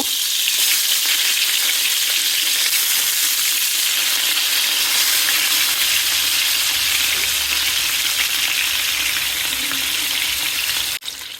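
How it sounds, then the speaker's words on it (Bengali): Pieces of hilsa fish frying in hot oil, giving a loud, steady, hissing sizzle that runs without a break for the whole stretch, with no talk. "তেল গরম হয়ে গিয়েছে, এখন আমি একে একে মাছের পিসগুলো দিয়ে দিচ্ছি। মাছগুলো হালকা করে একটু ভেজে নিব।"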